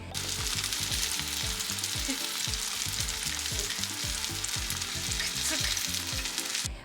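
Tofu frying in a pan, a loud, steady, dense sizzle that continues unbroken, with faint low stirring knocks beneath it.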